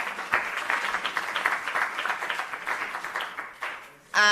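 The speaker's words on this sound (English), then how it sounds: "Please give them a round of applause." Audience applause after a presentation at a university innovation event, a steady patter of many hands clapping for several seconds, fairly close, ending in a sudden louder burst.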